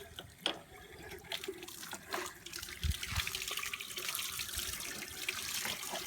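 Water pours and splashes into a Kifco water reel pump, a soft continuous trickling with a few louder gurgles and sloshes, recorded close but fairly quiet with no talking.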